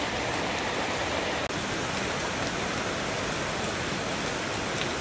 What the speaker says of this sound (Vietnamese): Mưa kiểu vậy cây nào sống nổi mọi người.